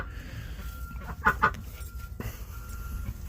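Chickens cluck in a barn where ducks and chickens share a water bowl, with a couple of clear close clucks over a steady low farmyard ambience.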